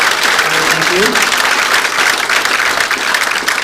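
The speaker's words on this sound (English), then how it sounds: "Let's give a big round of applause for everyone." An audience at an Army Futures Command event claps in a dense, continuous round of applause, loud and close, with a voice briefly speaking beneath it.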